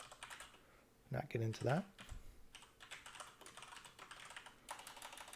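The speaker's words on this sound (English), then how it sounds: "Keyboard's super loud. I know it's kind of cool to listen to." Loud, rapid clacking of a computer keyboard being typed on continuously, with a brief stretch of close male speech partway through.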